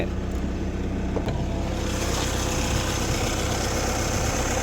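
A 1997 Volkswagen Vento with its original 1.8 L ADZ engine idles smoothly and steadily, a close, even low rumble that holds without change throughout.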